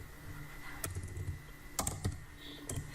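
Typing on a computer keyboard while styling a menu with CSS: scattered bursts of clicky keystrokes with pauses between them, near and moderately loud, with no talking.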